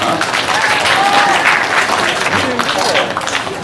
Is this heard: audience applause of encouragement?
yes